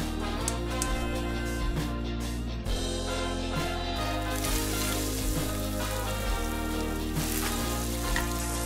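Potato patties for vegan burgers fry in a pan with a steady, close crackling sizzle and scattered pops throughout.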